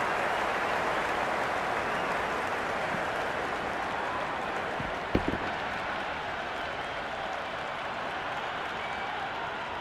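Crowd noise from the stands at a Pakistan vs New Zealand cricket match in the Cricket 26 video game, a steady, even roar of cheering and applause throughout, with one brief sharp knock midway.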